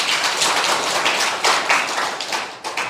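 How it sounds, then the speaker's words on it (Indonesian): A church congregation claps for God, loud close hand claps that are fairly dense and uneven, rising and falling in bursts with little talk over them. "Tepuk tangan buat Tuhan."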